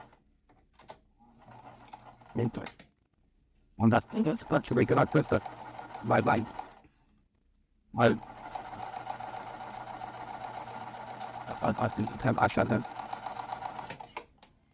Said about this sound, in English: I'm going to bring it to the machine, and again, making sure I'm back stitching